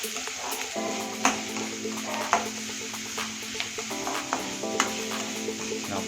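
Onions and tomatoes for mutton chukka sauté in a pan with a continuous close sizzle, punctuated by periodic sharp spoon or spatula taps against the pan, with no one speaking.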